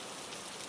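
Steady rain falling, a dense, even hiss of drops on a surface with no other sounds, continuous across the whole moment.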